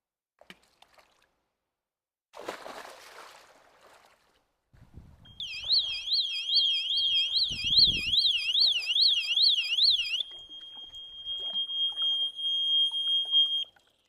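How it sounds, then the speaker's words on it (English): Floating pool alarm shrieks after someone jumps into an inground pool: a loud, steady warbling siren tone that starts after a splash and runs continuously for several seconds, then continues as a single sustained beep. "we're gonna listen and see what this floating alarm does"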